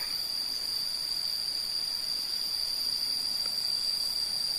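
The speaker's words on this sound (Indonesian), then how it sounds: "di sini kita dengar banyak suara serangga ya" Dense, steady chorus of many insects, cricket-like, shrilling continuously in a forest around a quiet village, loud and unbroken with no voices.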